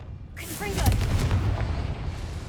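A Confringo fire spell goes off in Hogwarts Legacy, a sudden heavy boom that swells into a rumbling burst and then trails away over the next two seconds.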